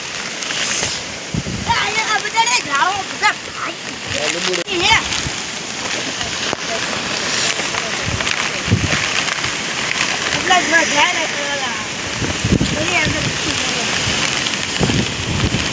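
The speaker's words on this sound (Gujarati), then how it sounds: "વરસાદ ચાલુ છે અને વાવાઝોડું સાથે સાથે છે" Heavy rain pours down during a windstorm, a steady loud roar of water splashing and streaming on surfaces, with voices talking under it.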